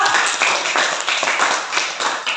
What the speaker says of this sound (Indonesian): tepuk tangan buat Aryo